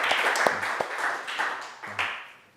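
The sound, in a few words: congregation applauding the praise team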